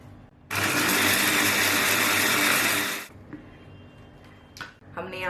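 An electric kitchen chopper whirs loudly for about two and a half seconds as it grinds mint, green chili and fried onion, then stops abruptly, leaving quieter handling clatter.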